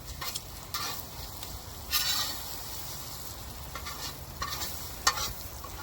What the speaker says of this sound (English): here's my bacon and eggs. Ooh, it's frying up nicely.